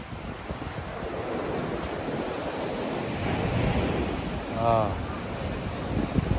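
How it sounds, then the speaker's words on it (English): Ocean waves breaking on a beach as a steady broad wash of surf with wind buffeting the microphone, a man briefly exclaiming near the end. "there's the waves"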